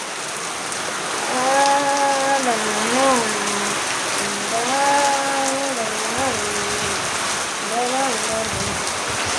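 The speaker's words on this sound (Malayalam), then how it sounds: "കട്ട പിടിച്ച മഴ, പേമാരിത്തുള്ള മഴ." A heavy monsoon downpour drums steadily and loudly on surfaces all around, a dense unbroken hiss, while someone talks over the rain.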